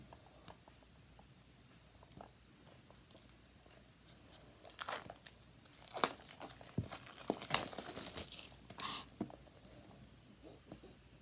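Crinkling and crunching of AirPods Gen 2 packaging being unwrapped, soft scattered rustles that build into louder crackling bursts near the middle, with a brief faint murmur of speech.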